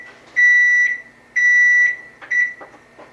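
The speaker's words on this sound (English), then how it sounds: "Claudia, the oven's beeping." Kitchen oven timer beeping in a home kitchen, three sharp, high electronic tones, each about half a second long, evenly spaced, close and loud in an otherwise quiet room.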